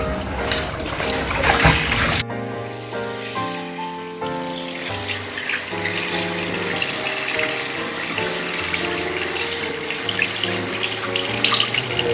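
Running tap water pours steadily into a sink while soaked squid, swollen to double size, is rinsed under the stream, with clattering and splashing throughout the continuous flow.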